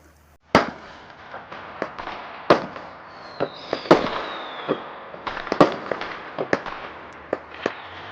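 Fireworks bursting in the night sky, a rapid scatter of sharp cracks and pops at irregular intervals, some loud and close, others fainter, with a brief rising whistle partway through.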